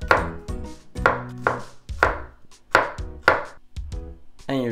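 A kitchen knife chops through food on a cutting board during Japanese home cooking of hamburger steak, about eight crisp, evenly spaced knocks in a steady rhythm, close and clear, with no talking.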